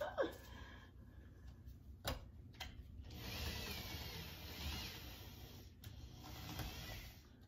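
A power tool whirs in a few short bursts, then runs longer with a steady mechanical buzz, close to the listener.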